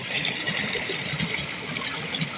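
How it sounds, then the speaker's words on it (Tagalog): Strong stream water rushing steadily, a continuous close wash of flowing water with no voices over it. "Lakas ng tubig, oh"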